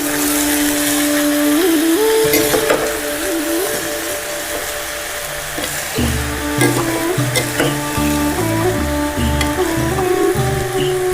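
Vegetable pulao ingredients being stirred together in a frying pan over a very low gas flame, a steady soft sizzle and scraping running throughout, with background music playing over it and no talking.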